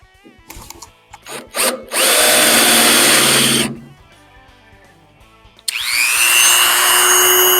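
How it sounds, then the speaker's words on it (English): A power drill bores out a spot weld on a 1971 VW Super Beetle body. After a few short trigger pulses comes a loud, steady whine for nearly two seconds, a pause, then a second sustained burst, all close up. "I'm going to get the spot weld out right there."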